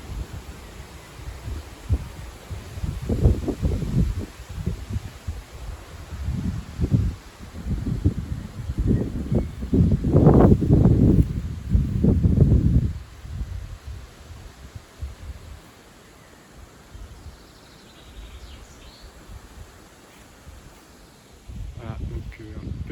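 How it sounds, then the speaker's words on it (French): A sudden rise of gusty wind in the evening after dead calm, rustling leaves in roaring surges that swell and fade in waves, loudest midway, then dropping to quieter rustle. "Quand même un beau renforcement puisqu'il n'y avait pas de vent du tout."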